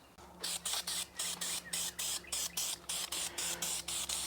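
Aerosol can of VHT high-temperature paint spraying media-blasted C3 Corvette side-pipe exhaust headers, a steady series of about fifteen short, close hissing bursts in quick rhythm with brief gaps, over a low background hum, no talking.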